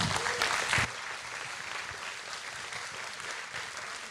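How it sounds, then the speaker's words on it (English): A conference audience claps briefly, loud and dense for under a second before the applause drops to a thinner, scattered patter that lingers quietly. "Round of applause for James, please."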